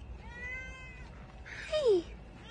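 A cat gives a single short meow near the end, fairly clear against a quiet indoor background, with no talking over it.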